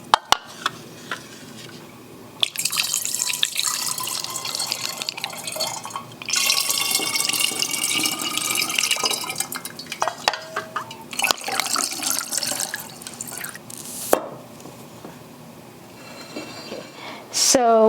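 Water is poured into an earthenware vessel for making Korean rice wine, makgeolli, with splashing, trickling bursts and drips that start and stop in several runs, close and clear, while someone talks between the pours.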